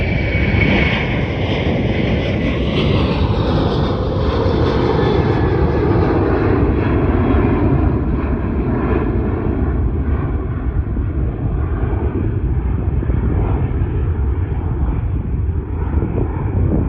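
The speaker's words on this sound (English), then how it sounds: "the plane is about to leave is a Melbourne to Tokyo plane" A Qantas Airbus A330 departing Melbourne Airport for Tokyo, heard from a viewing area: a loud, steady jet engine roar that fills the whole stretch and slowly lowers in pitch as the aircraft moves off, with no voices.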